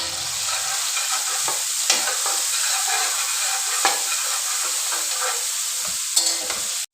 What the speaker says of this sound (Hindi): अब मैं इसमें ऐड कर दूँगी अदरक और लहसुन का पेस्ट, और इसको हम ना 2 मिनट तक कुक करेंगे